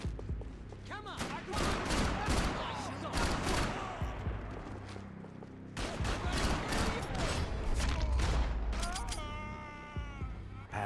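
Gunfire from the shooter game Max Payne 3 crackles in dense, loud bursts across the scene, with shouting voices and game music mixed in and a short lull midway.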